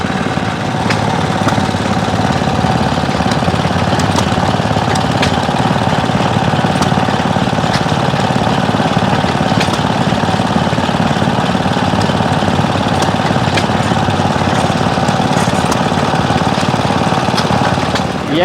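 An old stationary engine at a tractor and engine show chugs steadily while powering a vintage laundry washing machine. The loud, close mechanical knocking runs evenly throughout, with no talk over it.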